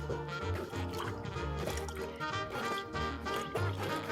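Broth poured through a kitchen strainer, with liquid trickling and dripping steadily into a container nearby, a close, splashy patter with brief heavier gushes.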